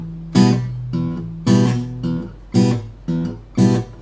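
Travis-style fingerpicking on guitar, alternating a low bass note with a brushed chord in a steady bass-chord rhythm, played close and clear with no voices.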